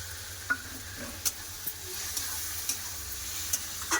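Poppy seed paste with potatoes and ridge gourd frying and being stirred in a pan: a steady soft sizzle with about eight sharp spoon scrapes and taps spaced through it, close by, with no talking.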